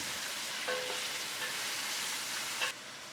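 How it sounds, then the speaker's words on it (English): Fish heads and bones fry over high heat in a pot, giving a continuous close sizzle with a few brief clinks of stirring and turning. "Fry them on high heat for a minute, turning them around."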